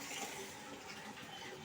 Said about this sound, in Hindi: अब मैं जा रही हूँ पौधों में पानी डाल देती हूँ